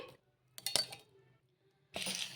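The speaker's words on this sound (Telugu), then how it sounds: "ఇప్పుడు మిక్సీ జార్ అయితే తీసుకొని ఇంక అందులోకి అయితే వేసేసుకుందాం పల్లీలను" Roasted peanuts are tipped into a mixer jar, landing in a brief, bright clatter of hard nuts against the container, followed after a pause by a second rattling pour, close and fairly quiet.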